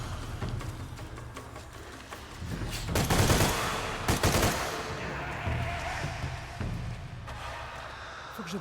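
Gunfire in the video game Shadow of the Tomb Raider bursts out in rapid volleys and sharp shots mid-clip, with thuds and game ambience around it and someone talking over parts of the action.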